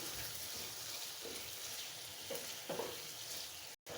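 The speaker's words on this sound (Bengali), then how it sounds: "এখন দিয়ে দেবো সেই রুই মাছ আর পেটিগুলো, দিয়ে ভালোভাবে কষিয়ে নেব।" Rohu fish pieces fry in a pan of cooked-down spice paste, giving a steady, fairly faint sizzle and crackle with a few soft stirring scrapes and no voices.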